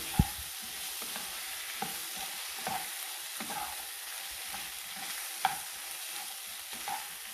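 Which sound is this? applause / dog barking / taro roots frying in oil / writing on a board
taro roots frying in oil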